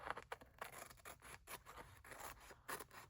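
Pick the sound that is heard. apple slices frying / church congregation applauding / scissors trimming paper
scissors trimming paper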